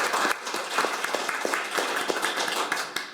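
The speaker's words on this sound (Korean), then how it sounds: "영웅을 기억하는 대한민국 인류 보훈을 위해 노력하시는 모든 분들을 위해 큰 박수 한번 부탁드리겠습니다." Dense audience applause fills a Korean veterans' policy forum on delayed post-war PTSD, honoring the Yeonpyeong naval battle heroes; many hands clap steadily and loudly throughout with no speech.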